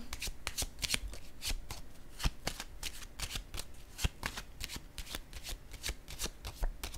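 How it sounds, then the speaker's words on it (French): Tarot cards being handled and laid down, with continuous quick riffling and snapping shuffles in a steady rhythm, close and soft, with no talk over them. "Je vais déposer une carte."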